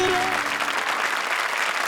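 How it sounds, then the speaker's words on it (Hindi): Applause fills a comedy show studio, with a dense, steady patter of many hands clapping at close range and faint voices at the start. "जोरदार तालियां स्वप्निल और वीआईपी के लिए."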